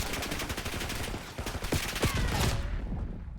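Rapid gunfire in Call of Duty Black Ops 6 during a strafing gunfight: dense, continuous bursts of automatic shots crackle loud and close for about two and a half seconds before cutting off.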